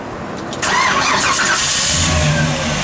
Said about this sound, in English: You can hear it's got that little mini torque starter.